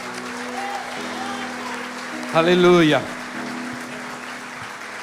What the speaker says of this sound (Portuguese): Forte aplauso ao Rei da Glória.